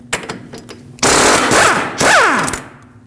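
A knuckle through bolt is punched out of the rear suspension on a Lexus IS250, with a few light taps followed by two loud, sustained bursts of rapid impact hammering close by.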